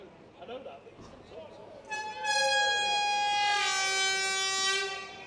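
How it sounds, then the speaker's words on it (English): A rugby league half-time hooter at an Oldham versus Rochdale match blares in a long, loud, sustained tone after a few seconds of commentary and crowd murmur, holding steady to the end. "And there's the half-time hooter."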